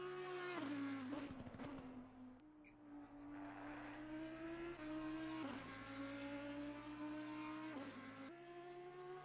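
An Audi race car engine in a racing sim at Brands Hatch screams steadily at high revs, with a few brief drops and climbs as it shifts gears, loud and close throughout.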